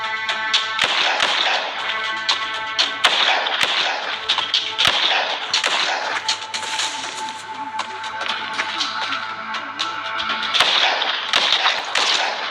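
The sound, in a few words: gunfire in a shooting video game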